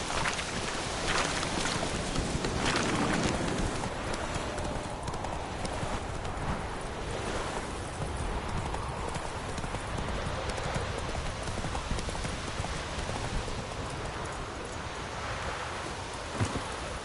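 Hooves clatter in a quick, driving rhythm as a horse gallops in The Witcher 3, loud and close throughout over a dense wash of in-game ambience.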